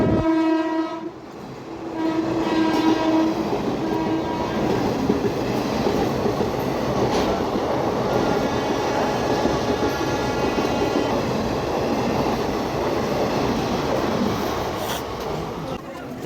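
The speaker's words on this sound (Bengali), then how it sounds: "ফাইনালি লাস্ট আমাদের ট্রেনটাই আসবে" A passenger train pulls into a railway station. It opens with loud, sustained horn blasts, then a continuous heavy rumble and wheel clatter that stays close and loud to the end.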